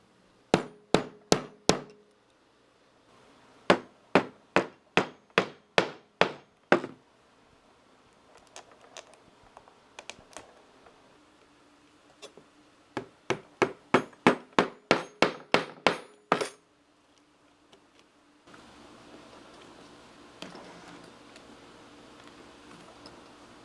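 A hammer taps repeatedly on a leather belt loop for a knife sheath, sharp close strikes in quick runs of several blows separated by pauses, with quieter handling noise between and at the end.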